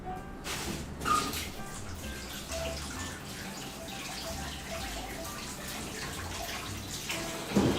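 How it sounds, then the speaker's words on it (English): Tap water runs steadily into a sink while pineapple scraps are rinsed, a soft continuous splashing with small clatters and drips, fairly close and without talk. "Just want to give it a quick little wash over here."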